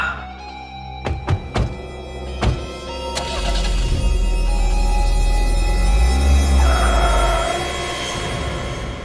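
A car's doors thunk shut several times in quick succession, then the engine cranks and settles into a steady, fairly loud idle that runs on with a slight rise in pitch, no talking over it.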